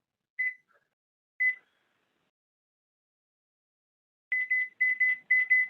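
A kitchen timer in a home kitchen, set while meatloaf rests, gives two single beeps a second apart, then after a pause a quick run of five clear, evenly spaced electronic beeps.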